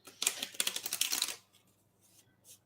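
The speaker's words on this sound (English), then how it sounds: "I think that's a pretty good shuffle." Tarot cards from a newly unboxed deck are shuffled close up, giving a rapid run of crisp riffling clicks for about a second and a half, then a few faint soft card sounds.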